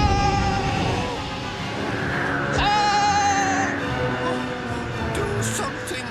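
Sheep bleating close by, several drawn-out wavering calls over a steady background of other animal sounds and faint murmuring.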